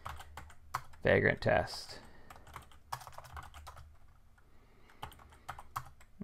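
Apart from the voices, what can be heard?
typing commands on a computer keyboard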